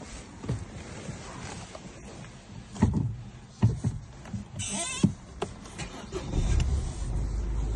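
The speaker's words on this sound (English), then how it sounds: "So we'll cycle the ignition and see if she starts." A 2014 Peugeot 308 cranks and starts as the ignition is cycled, with a short whirring burst midway, then the engine catches and settles into a steady low running note at close range, with no talk.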